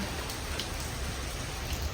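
Steady, dense rain pours down close by on a surface in Bohol, a constant hiss with no voices.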